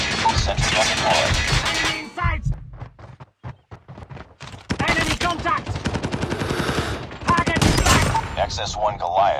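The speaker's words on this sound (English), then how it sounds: "Sentry gun deployed." An automated sentry gun in Call of Duty Mobile fires loud, rapid bursts that rattle on, pause briefly with a few scattered shots, then resume in long sustained streams.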